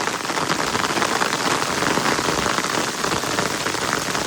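Hailstorm on a Leicester street, a dense, even clatter of ice pellets drumming on hard surfaces nearby, steady and loud without pause.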